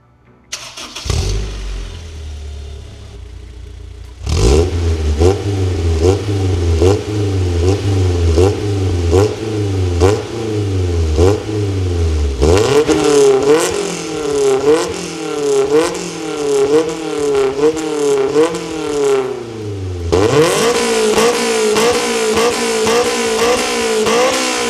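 A Honda S2000 engine with an EVS Tuning single-exit aftermarket exhaust starts and revs repeatedly with a loud, raspy note, rising and falling in quick bursts, close and powerful, with no talking.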